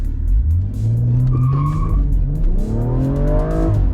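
A BMW M135i XHP Stage 3 accelerates hard during a timed acceleration test, its engine loud and close with rising pitch sweeps as the gearbox works through quick upshifts.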